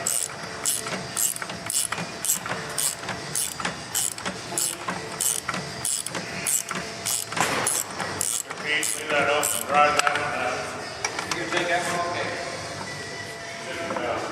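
Repeated ratcheting clicks from a 1/2 inch socket tightening a bolt on an MTD Yard Machine 22 inch 179cc snow blower during transmission repair, a steady run of close, sharp clicks with some clanking toward the end.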